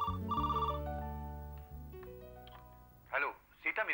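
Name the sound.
telephone ringing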